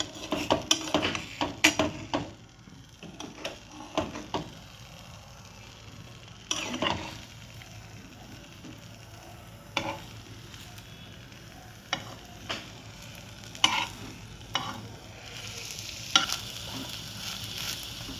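A patisapta crepe filled with carrot halwa fries in a pan and is flipped over. A faint, continuous sizzle runs throughout, broken by scattered close clicks and scrapes of a utensil against the pan. Nobody speaks.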